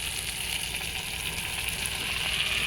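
Spice masala sizzles and fries steadily in a pan with a splash of water, a dense continuous hiss at close range with no pauses.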